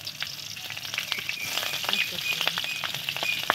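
Slit green chilies frying in hot oil with black cumin seeds for a cabbage kofta curry, a loud close sizzle with sharp crackles and pops and the scrape of stirring.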